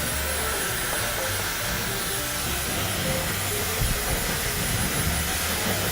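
Hair dryer blowing steadily on a low heat setting while styling natural hair, a continuous broadband airy whoosh that stays even and close throughout with no talking.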